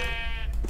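A sheep bleats in the video game Craftopia, a single loud, wavering, buzzy call lasting under a second over a steady background rumble.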